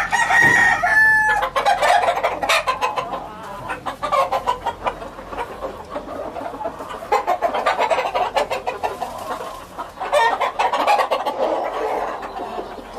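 Cuban gamefowl chickens, a hen with chicks, cluck and cheep busily up close, with a rooster crow at the start and a steady chatter of small birdlike peeps throughout.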